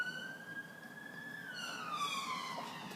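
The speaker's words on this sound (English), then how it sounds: "Bloody sirens every time." A police siren wails outside, a thin rising and falling tone drifting past at a distance, faint over quiet room noise with no voices.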